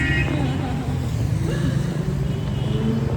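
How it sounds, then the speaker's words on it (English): Busy city street traffic in Banha, Egypt, a steady close wash of car and motor engines with passing vehicles, heard from the pavement while people talk nearby. "Crazy traffic, crazy traffic."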